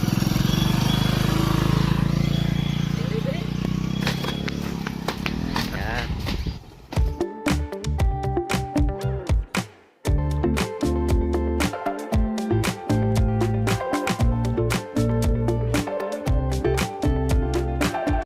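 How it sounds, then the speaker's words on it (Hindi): A motorbike engine idles and revs steadily with a thermocol kite tied to it, sputtering and pulsing throughout, with a brief dropout partway through; people talk over the engine noise outdoors. "और बांधने के बाद हमने बाइक को चालू कर दिया।"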